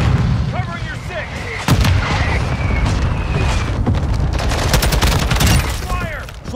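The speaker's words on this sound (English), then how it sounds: "Mortar strike inbound now." Mortar strike explosions in a Call of Duty: Modern Warfare 2 team deathmatch, loud booming blasts and sharp gunfire cracks repeating over several seconds in a dense, continuous battle din.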